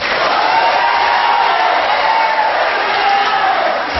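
Dense crowd noise from an audience at a regional election debate for district head candidates, a continuous roar of applause and cheering that stays loud and even throughout.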